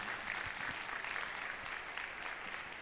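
A church congregation applauds, a steady, diffuse patter of many hands heard faintly and from a distance, continuous throughout.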